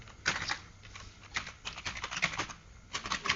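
Rapid computer keyboard typing in quick bursts with short pauses, close and clear, with no voices.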